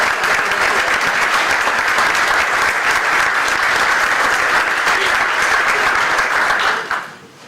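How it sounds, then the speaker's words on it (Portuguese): A large audience at a Pedro Santana Lopes presidential candidacy information session in Torres Vedras claps loudly and steadily, dense and sustained for about seven seconds before tapering off abruptly at the end. "Para todos eles eu pedi um forte aplauso também"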